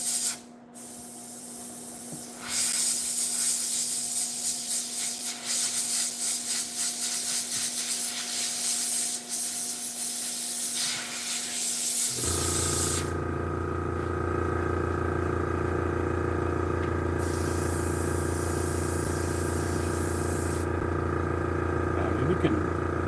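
An airbrush spraying paint onto a model tank gives a steady, close hiss that carries on without a break, first over a low hum and then over a louder, tonal compressor or motor drone.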